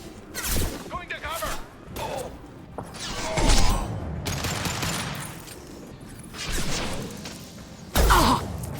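Gunfire in the video game Mass Effect 2, with bursts of rapid shots and mechanical clatter recurring over several seconds, loud and close, interleaved with characters talking during combat.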